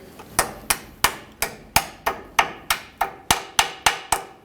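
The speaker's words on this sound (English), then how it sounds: "On the far side, we'll just peen that over." A hammer peens over a cotter pin on a 1998–2011 Ford Ranger lower control arm, about fourteen sharp metallic strikes at a steady rhythm, close and loud.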